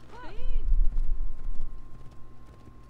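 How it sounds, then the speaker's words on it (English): A war horse's hooves clip-clop at a trot in Assassin's Creed Origins, with a short whinny, beneath someone talking and a steady game music drone. "Could take my war horse."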